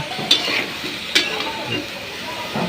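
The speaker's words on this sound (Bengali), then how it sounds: "তরকারিটা ভালোভাবে নেড়ে নিতে হবে" A spoon scrapes and stirs through a curry of malabar spinach, potato and lentils in a pan, with a few sharp clinks against the metal over a soft simmering sizzle, close and moderately loud.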